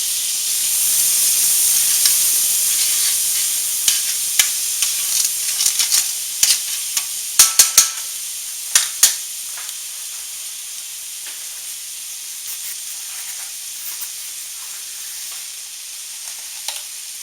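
Butter melts in a pan for a garlic alfredo sauce for a shrimp bake, giving a steady close sizzle and hiss with scattered sharper pops and crackles in the middle, no talking.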